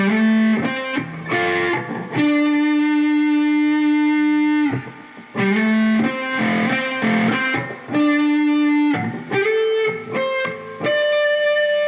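Part 4 of the guitar lesson played slowly on a distorted electric guitar: a run of sustained, ringing notes with short gaps between phrases, loud and close, with no voices.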